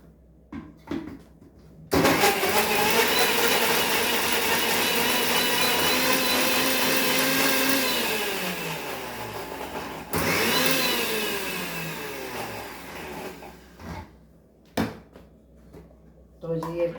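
Electric kitchen grinder coarsely grinding 2.5 onions, a loud steady whirring roar running about eight seconds that slows and drops in pitch, followed by a second shorter burst; a few clatters and light handling noises before and after.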